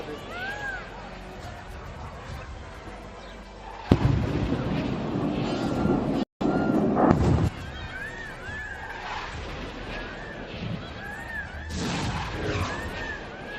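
Air defense intercepting drones over a night sky gives distant muffled blasts and rumbling thuds with a crackling wash. A louder burst cluster swells midway, while voices talk throughout.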